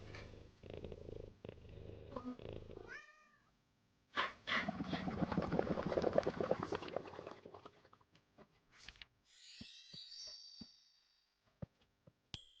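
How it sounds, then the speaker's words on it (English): A cat purring as it is petted in a Nintendo Switch video game: a soft, continuous rumbling purr in the middle, framed by quieter game sounds and a few short chirps. "Oh, we can pet the kitty."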